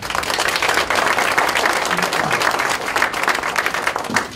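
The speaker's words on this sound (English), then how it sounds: "I think you all deserve a nice round of applause for that." Loud, sustained applause from a crowd at a patient safety event, many hands clapping in a thick, continuous roar that stays strong from start to finish.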